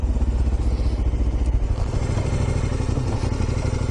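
A motorcycle engine runs close and loud with a rough, pulsing idle and clattering, mechanical chatter, steady over four seconds with no speech.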